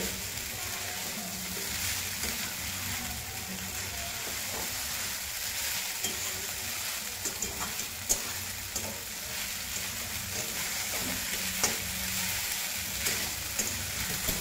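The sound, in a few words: khichdi being stirred and roasted in a pan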